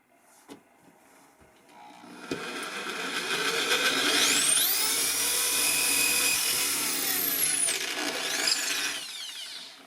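Power drill boring through a guitar soundboard and plywood at a workbench edge: a few clicks, then a rising whine that holds for several seconds with shifting pitch as the bit cuts, near and loud, fading at the end.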